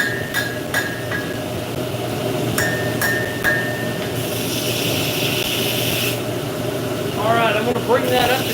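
Hammer blows on a hot steel guard at a forge: a few sharp ringing strikes early, then continuous rough scraping and workshop noise, with a voice briefly talking near the end.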